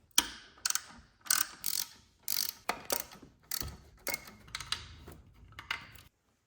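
A ratchet with a 15mm socket clicks in short bursts while removing the alternator from a C5 Corvette, about ten quick ratcheting runs separated by brief pauses, close and clear with no talking.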